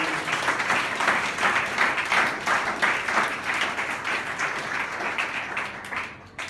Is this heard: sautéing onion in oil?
no